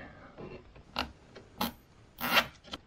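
A plastic zip tie is pulled tight on an ATV fender: a few short ratcheting rasps and clicks at close range, with no talk.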